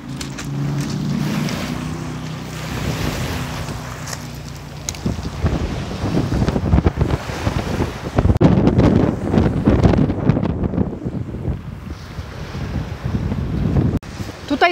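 Strong wind roars and buffets the microphone by the sea on the Greek coast, with surf rumbling underneath; gusts swell louder midway and stay continuous throughout.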